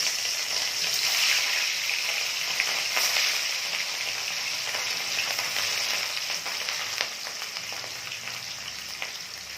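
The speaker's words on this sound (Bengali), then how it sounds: "এরপর একে একে তেলের মধ্যে মাছগুলো দিয়ে আমি মাছগুলো ভেজে নেব।" Rohu fish pieces fry in hot oil over a medium flame, a steady, moderately loud sizzle with occasional spits and pops and no voices.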